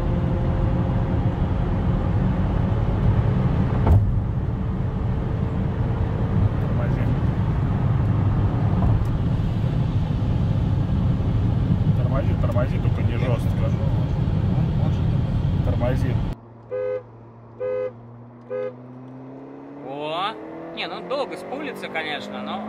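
A Toyota Camry 3.5 with a chip tune accelerates hard, its engine roaring loud and steady before cutting off abruptly. A rising whine follows as the car pulls again, and occasional voices talk over it.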